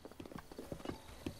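A horse gallops in Zelda: Breath of the Wild, its hooves landing in quick, rhythmic clip-clops at moderate loudness for a second and a half, with no talking.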